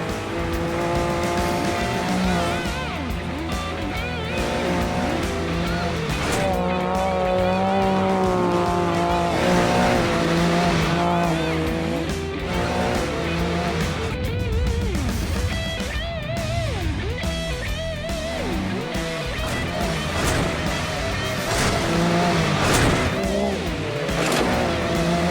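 Can-Am Baja Bug conversion charging toward a tabletop jump at nearly 55 mph: sustained loud engine roar that surges and drops as the throttle changes, with some tire scrabble, continuing for about twenty-five seconds.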